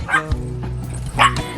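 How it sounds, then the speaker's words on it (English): Small dogs at a campsite in Pennsylvania bark and yip in a few loud, close bursts with a whimpering tone between them, while excited voices greet them. "We're gonna meet the dogs."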